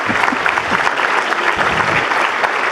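An audience at a conference on European security applauds a former foreign minister coming on stage, a loud, continuous wash of many hands clapping close by with no voices over it.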